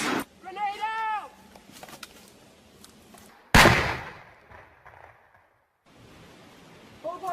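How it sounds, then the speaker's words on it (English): A grenade blast goes off midway, a sudden loud burst that fades into a rumbling tail, after shouted warnings and voices, with speech resuming at the end. "Grenade out!"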